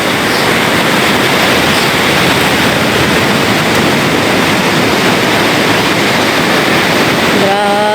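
Strong sea waves pound during Typhoon Kristine, a loud unbroken roar of surf and rushing water mixed with heavy wind buffeting on the microphone, close and overwhelming throughout.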